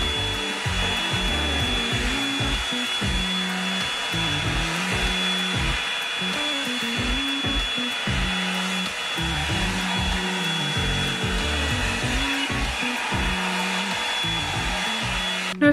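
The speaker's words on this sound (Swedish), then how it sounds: "nu har jag testat att föna håret med den här nya" A hair dryer blowing hair runs steadily throughout, a continuous loud whirring hum with a fixed whine, its airflow shifting slightly as it moves.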